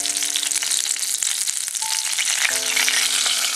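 Mullan fish coated in masala sizzles steadily in hot oil, a loud, continuous close-up crackle with no talking.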